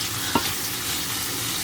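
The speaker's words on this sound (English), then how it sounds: "So keep on rolling and mixing. It's a sort of sauteing or a stir fry." Pheasant meat being stir-fried in a stainless steel pan, a steady broadband sizzle with one brief utensil scrape near the start, no voices.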